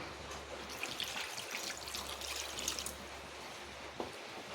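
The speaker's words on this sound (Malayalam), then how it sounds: "ഇനി നമുക്ക് ആവശ്യത്തിനുള്ള വെള്ളം ഒഴിച്ചു കൊടുക്കാം" Water pours steadily into a pot of chicken and jackfruit, a soft continuous trickling stream at moderate distance lasting several seconds with a few small splashes.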